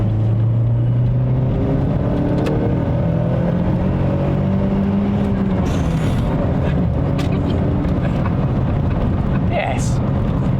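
Mitsubishi Starion engine pulling steadily under acceleration while driving, a continuous loud drone with rising and falling tones, wind and road noise throughout.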